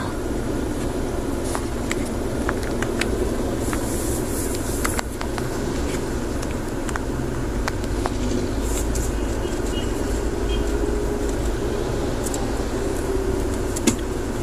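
Road traffic in Fairview, heard as a steady, moderately loud rumble of passing vehicles with faint high chirps and clicks throughout, and no talking.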